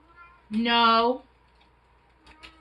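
A cat lets out one clear, drawn-out meow close by, followed by near silence with a couple of faint soft rustles.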